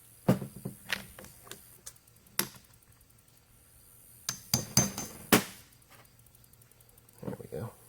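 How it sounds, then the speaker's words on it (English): Punch tapped against a deep well socket set on a circlipped shaft end to drive out a shift bushing, a series of sharp metallic taps, some in quick pairs, spread over several seconds, fairly close and quiet. "take a deep well socket, set it on the end, which still has a circlip on it, and then just tap it with a punch"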